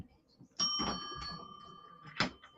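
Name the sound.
doorbell-like bell chime on morning show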